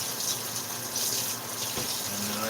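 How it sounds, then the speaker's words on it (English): Tap water gushes steadily into a kitchen sink as a whisk is rinsed, a constant close splashing rush with slight shifts in tone near the end. "Oh, I need to wash my whisk off."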